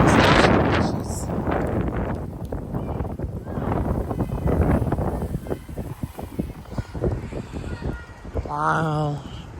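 Strong 50 mph damaging wind gusts in Frisco, Texas roar and buffet the microphone in loud surging waves, with rustling bushes and a brief car horn near the end.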